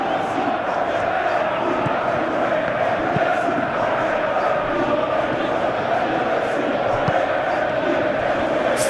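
A simulated stadium crowd at a Chelsea versus Manchester United Premier League match in a football video game roars in a dense, steady wash of cheering and chanting with no clear breaks, loud and continuous.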